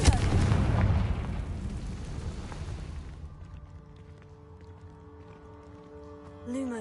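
Confringo fire curse from the Hogwarts Legacy video game: a loud booming blast that decays over a few seconds into a tonal ringing tail, followed by a brief swelling whoosh at the end.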